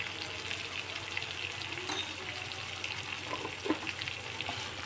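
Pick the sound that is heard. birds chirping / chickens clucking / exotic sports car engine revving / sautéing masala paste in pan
sautéing masala paste in pan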